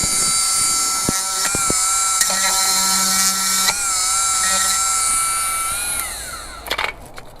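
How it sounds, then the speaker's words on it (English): A Dremel rotary tool whines at a high steady pitch while notching an interior panel on a Polaris RZR Pro R, running continuously up close with brief pitch dips and a few knocks as it winds down. "I'm just going to go ahead and use a Dremel."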